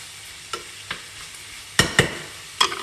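Chicken breast cooking in a pot, with a few soft clinks and scrapes of stirring, two sharper knocks near the end over a faint steady simmer, no talking.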